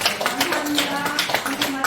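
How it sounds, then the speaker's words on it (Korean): Applause from a congregation at a church worship service held in a parliament prayer room, scattered clapping running for a couple of seconds beneath and between a speaking voice. "박수 한번 보내주세요."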